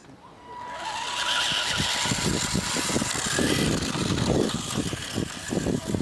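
Vintage Tamiya Holiday Buggy RC car driving outdoors, a continuous whirring electric motor with rapid crackling and rattling from the wheels over rough ground, steady and fairly loud throughout.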